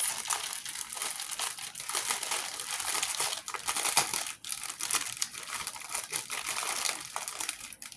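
Zip top plastic baggies holding pre-kitted diamond painting drills crinkle and crackle steadily up close, a continuous bright rustling with brief pauses and no speech.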